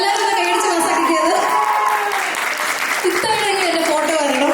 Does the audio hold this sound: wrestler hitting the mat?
no